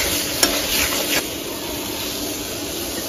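Spice paste for a bata fish and potato curry sautés in a pan with a dense, close sizzle, with a couple of sharp stirring knocks early on, then a steady hiss with no voices.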